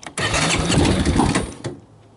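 A 2000 Honda Recon 250 ATV engine cranks and catches with a loud, close, rough burst, its throttle fluttered, the sound sputtering for about a second and a half before cutting back toward quiet.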